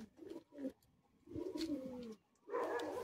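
Close, soft cooing from a Chini sira breed pigeon, several throaty rolling coos in uneven bursts with short quiet gaps and no talking.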